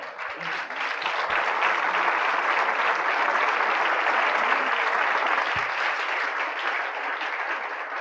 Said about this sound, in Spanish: ¿No le damos un aplauso al Señor?